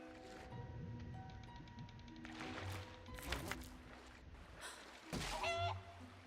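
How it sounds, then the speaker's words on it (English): A duck in the Skyrim video game lets out a couple of clucking, honking fowl calls that sound like a chicken, rising over soft in-game background music and ambience. "Why did that duck sound like a chicken?"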